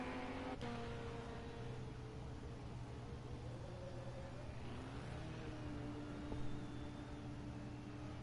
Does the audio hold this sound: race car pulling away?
yes